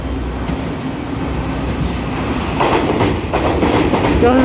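Three-car DRC diesel railcar set running as a Tze-Chiang express on Taiwan's railway, a loud, close rumble of engine and wheels that builds, joined by rhythmic wheel clatter and a faint squeal toward the end.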